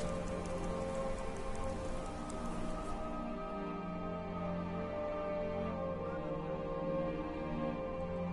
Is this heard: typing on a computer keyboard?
no